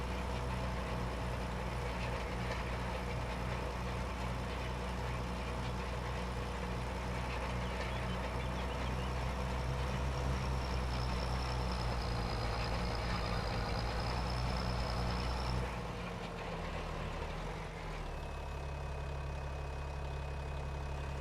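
A tractor drives steadily around a sawmill site, its engine droning low and continuous with a rumbling mid-range hum, close and alone, easing down in pitch near the end.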